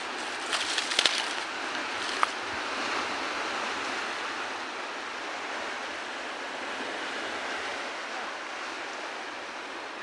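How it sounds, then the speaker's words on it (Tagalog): Rough sea waves wash continuously as a broad, steady roar, with a few sharper splashes near the start and no talking. "Medyo maalon mga boss"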